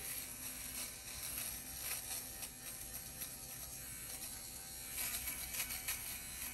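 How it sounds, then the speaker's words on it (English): An electric fabric shaver buzzes steadily while being rubbed across pilled, fuzzy clothing to remove the lint balls, a close, continuous whir with slight rises as it passes over the fabric. "So if I just take my fabric shaver"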